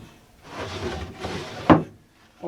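Wooden drawers of a homemade storage center slide out and back in with a smooth rumbling rub, two long glides followed by a sharp knock as a drawer shuts, close by.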